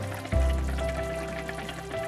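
Beaten eggs poured into a pan of frying okra and miswa noodles bring a sudden thump and a loud, steady sizzle that carries on close up.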